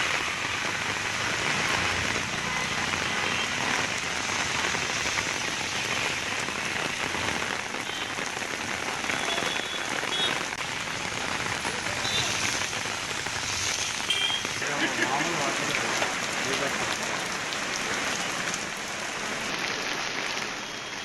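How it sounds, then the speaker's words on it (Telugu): Heavy rain falls steadily over Hyderabad during a downpour, a dense, loud, unbroken hiss of drops striking surfaces for the whole stretch, with no voices. "భాగ్యనగరంలో పలుచోట్ల భారీ వర్షం కురుస్తోంది"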